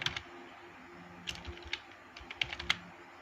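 Light keystrokes on a computer keyboard come in short scattered bursts of quick taps, fairly close and quiet, with brief pauses between groups.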